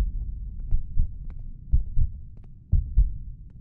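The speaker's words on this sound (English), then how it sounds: "whose heartbeat is that?" A low, muffled heartbeat thumps in paired double beats, slow and steady against a dull hum, in a horror video game.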